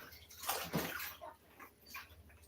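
Nesting bowls are washed in dishwater, giving close splashing and sloshing in a few soft bursts, fairly quiet throughout.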